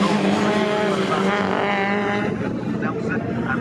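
A big pack of 1960s race cars roars through the Brundle and Nelson corners at Snetterton, a dense, steady engine drone with layered revs under continuous commentary.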